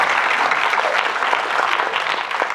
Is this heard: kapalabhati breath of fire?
no